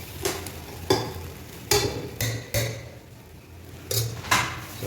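A utensil scrapes and knocks against a metal cooking pot while food is stirred, giving irregular sharp clinks and scrapes every second or so over a soft sizzling background.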